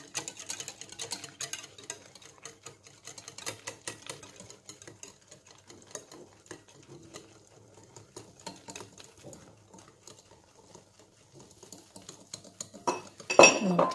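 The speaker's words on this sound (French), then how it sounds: "on la verse peu à peu tout en remuant" Cake batter for a yogurt cake with apples and pineapple being stirred as flour is poured in gradually, giving soft, steady scraping and light utensil clinks against the bowl, ending in a brief louder clatter.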